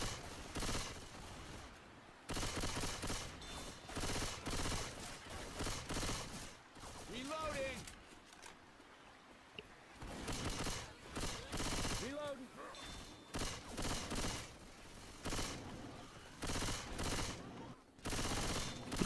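Repeated bursts of Left 4 Dead 2 gunfire crackle in clustered volleys separated by short pauses, fairly close, with people talking over the shooting.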